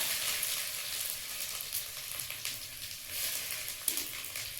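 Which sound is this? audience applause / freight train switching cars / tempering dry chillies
tempering dry chillies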